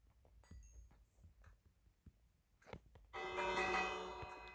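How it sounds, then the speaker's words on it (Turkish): A bright ringing bell chimes suddenly after quiet low thumps and clicks, its tone sustained and shimmering toward the end. "buraya da zil koyalım."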